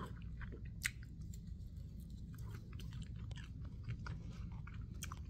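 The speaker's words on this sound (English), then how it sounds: "The batter and the crunch." Crunchy bites and chewing of battered fried shrimp, close and fairly quiet, with crisp irregular crackles over a low background and no talking.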